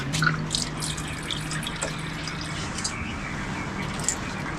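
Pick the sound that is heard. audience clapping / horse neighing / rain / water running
water running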